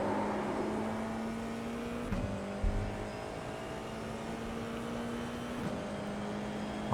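An F4 race car engine on the Nürburgring Grand Prix circuit in iRacing pulls steadily from the cockpit, with the pitch rising and a couple of quick downshift blips, loud and unbroken by speech.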